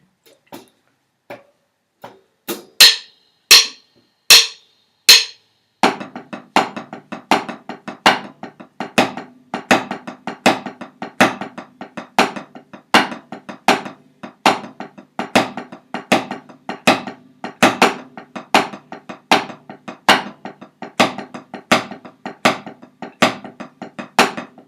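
Drum warm-up exercise played at 80 BPM: a few loud, spaced opening hits lead into a long, steady pattern of crisp strokes that repeats evenly and alone.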